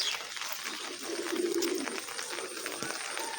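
Pigeons coo softly on a rooftop during rain, a low burbling call rising briefly in the middle over a steady hiss of rainfall.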